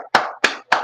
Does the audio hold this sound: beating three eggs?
no